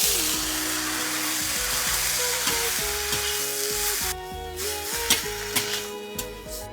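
Cured pork and sauce stir-fried in a wok, a steady sizzle with scraping and clinking of a spatula against the pan, while tonal background music plays throughout and sharper utensil knocks come near the end.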